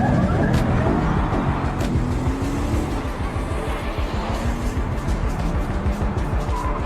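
A car throws into reverse and skids under pursuit by a pickup truck in a TV-series chase, loud, close engine roar with tire squeal and scraping, sustained throughout.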